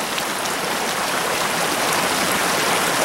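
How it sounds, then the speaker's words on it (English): Muddy runoff water rushing down a wet mountain trail, a dense, steady hissing wash like heavy rain that fills the clip without pause, close and loud, with no voices. "Muddy water goes down this way."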